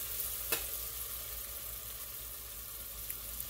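Peppers and onions seasoned and sizzling in a pan as they are stirred, a soft continuous frying hiss with an occasional utensil clink, quiet and close with no talk.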